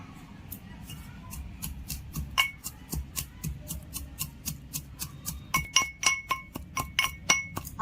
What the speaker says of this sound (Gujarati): આપણું લસણ ખંડાઈ ગયું છે